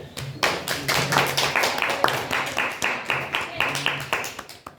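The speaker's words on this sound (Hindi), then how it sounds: "वेरी गुड, ताली बजाओ जरा" Classroom students clap together in a quick, fairly regular rhythm of distinct claps, close and loud, with a voice briefly audible in the background.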